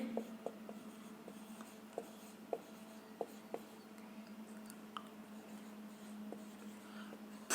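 Pen writing a question title on paper or board, faint close scratching with small sharp taps and clicks at irregular intervals, quiet throughout.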